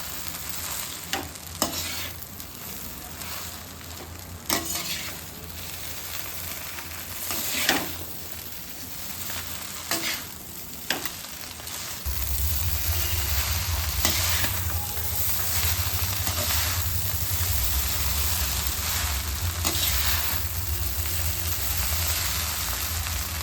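Street-style chicken noodles are stirred and fried in a pan, a constant sizzle under repeated scraping and clanking spatula strokes that grows denser and louder about halfway through, with no talking.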